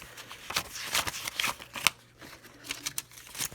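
Paper banknotes rustle and flick as they are handled and counted out for a grocery cash envelope, a quick irregular series of crisp close-up riffles with no talking.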